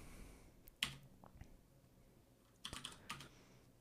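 A few faint, scattered keystrokes on a computer keyboard, with one sharper click and a short cluster of taps in a quiet room.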